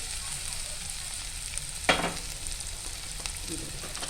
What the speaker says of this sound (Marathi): मिरची टाकूया हिरवी चिरलेली.